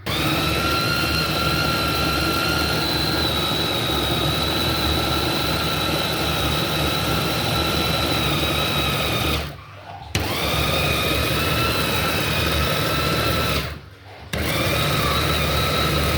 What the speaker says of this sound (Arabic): هنفرم بقى عشان نحط كلها على بعضها، نلخبطها ونيجي فرمينها تاني